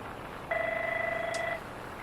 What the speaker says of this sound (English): So that's what that phone is in the background.